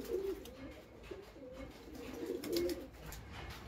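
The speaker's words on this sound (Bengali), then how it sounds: "এটা একটা মাদি পায়রা।" A female Salara Teddy pigeon coos softly, giving a few short, throaty coos in two brief bursts against quiet background rustling, close to the listener.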